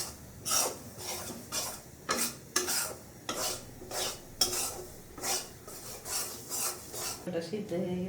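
Rice powder is stirred and dry-roasted in a pan with a spatula, making steady rasping scrapes in a regular rhythm, close and fairly soft, with no talk.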